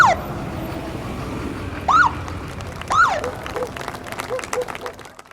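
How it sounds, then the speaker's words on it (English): Scattered, hesitant applause from a roadside crowd greets Cirillo's funeral motorcade as it enters Hamilton. Short rising siren whoops from escort vehicles cut through, with faint crowd noise and traffic underneath. "The motorcade was greeted by a careful rendition of O Canada and a hesitant applause."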